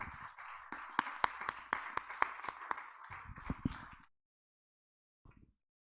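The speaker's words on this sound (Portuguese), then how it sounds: "Vamos aplaudir o Senhor." Church congregation clapping along in a steady rhythmic beat for about four seconds, fairly close and moderately loud, then stopping abruptly into near silence with a brief faint sound afterward.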